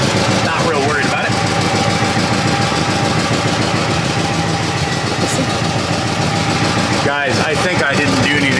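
Lincoln Navigator engine idles steadily up close with an exhaust leak near the top of the engine, a loud continuous rumble with faint ticking; someone talks over it at a couple of points.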